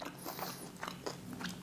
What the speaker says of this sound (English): Where that's come off the skin, that is so lovely and crunchy.